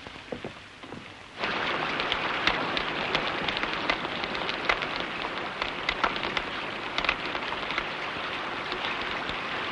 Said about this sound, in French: Si la pluie continue à tomber comme ça